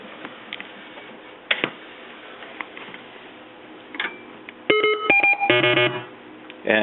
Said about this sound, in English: And as you can see, those are the calliope sounds.